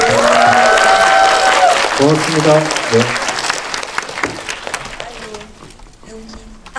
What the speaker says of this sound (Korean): 우리 고생한 배우들한테 박수 한 번만 다시.